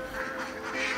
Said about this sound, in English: rear their own ducks